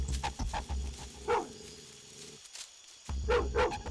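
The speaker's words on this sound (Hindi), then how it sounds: "और वो भी मुझे ही देखकर किस तरह से भौंक रहा है" A dog barks in short, sharp bursts, several clustered at the start and more after a brief pause, close and fairly loud.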